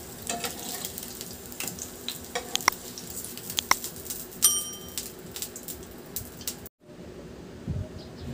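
Eggs frying in oil in a pan for a ham and egg sandwich, a steady soft crackle with scattered sharper pops and a few clinks, cutting out briefly near the end before resuming.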